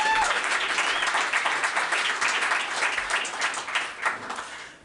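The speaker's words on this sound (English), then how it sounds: "another round of applause for David Fink." At a storytelling event, an audience gives a round of applause, a dense, fairly loud burst of many hands clapping that holds steady and then slowly fades, with faint voices beneath.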